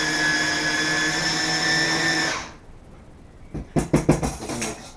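Blender whirring steadily as whole flour is mixed into a lunch blend with tomatoes, then cutting out, followed by several uneven clattering knocks and scrapes.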